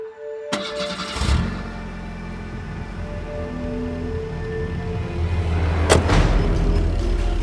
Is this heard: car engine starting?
yes